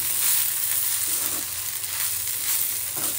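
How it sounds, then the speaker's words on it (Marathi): Kanda poha sizzles steadily in a hot pan as chopped coriander is stirred and tossed through, a constant bright frying hiss with soft stirring swishes throughout. "त्यातली थोडीशी कोथिंबीर मी यात मिक्स करते आणि याला खालीवर करून घेते"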